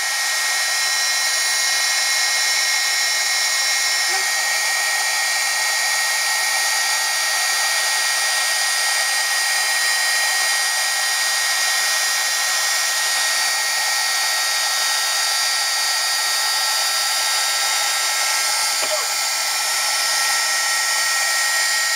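A heat gun blows a steady, even hiss of hot air across silver embossing powder on a Christmas card, running close and unbroken throughout with no talk.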